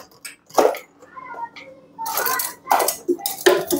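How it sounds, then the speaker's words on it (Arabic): A spoon stirs Indomie instant noodles in a pot, giving intermittent light clinks and scrapes in short bursts, with voices talking nearby. "جبنا المعلقه ونبدا ان احنا نقلب الاندومي"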